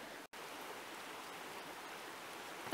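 River water flows steadily at a ford where a bridge has fallen, heard as a faint, even, unbroken rushing hiss with no voices.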